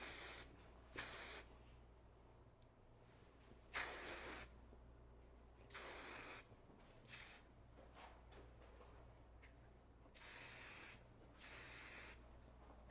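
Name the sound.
spraying hair product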